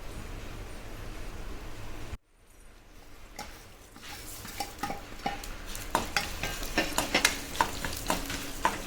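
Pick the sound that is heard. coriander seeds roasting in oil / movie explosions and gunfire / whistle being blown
coriander seeds roasting in oil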